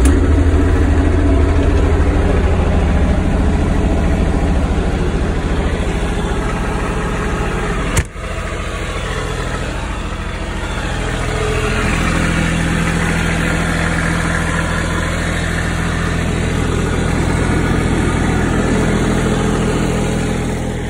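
A Toro Groundsmaster snow blower's engine runs steadily and loud at a constant idle throughout, with one brief sharp knock partway through and no voices.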